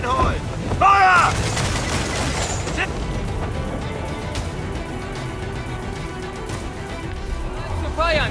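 Naval cannon fire in a sea battle from the video game Assassin's Creed IV Black Flag: heavy booming blasts and crashing impacts rumble over sustained battle noise, with shouted voices in the mix.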